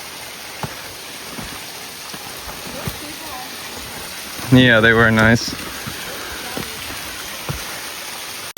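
A waterfall in northern Georgia rushes as a steady broadband wash, with a brief burst of talk and laughter over it midway before the continuous water noise carries on alone.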